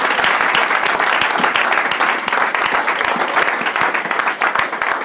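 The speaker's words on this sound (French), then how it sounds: "Est-ce qu'on peut acclamer pour le roi de rois?" A church congregation claps loudly and continuously at a pastor's consecration service, a dense wall of applause from a large crowd with some cheering mixed in.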